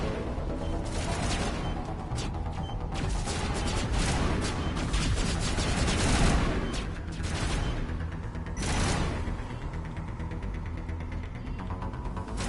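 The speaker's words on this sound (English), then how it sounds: "There are people, well, there are machine people shooting at me somewhere out there." Gunfire from machine enemies in Mass Effect, dense bursts of rapid shots and impacts rolling over a constant rumbling battle din, swelling in a few louder waves, with no talk.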